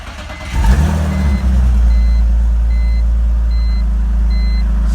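A BMW E46 Touring with a 3-liter engine, just converted to a manual gearbox, cranks briefly and fires up, then settles into a loud, steady idle rumble that holds for several seconds with no talking.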